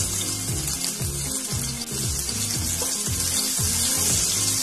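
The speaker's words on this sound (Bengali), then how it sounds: "এখন আমি এই ছোট সাইজের কুচানো পেঁয়াজটা দিয়ে দিই।" Small chopped onion is dropped into hot oil with cumin seeds for a Bengali katla fish curry, giving a loud, continuous close sizzle with a regular rhythmic scraping of stirring underneath.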